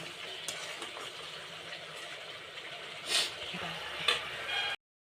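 Masala paneer being stirred in a pan, a soft steady scraping and low sizzle running throughout with a couple of brief clinks near the end, moderately quiet and close.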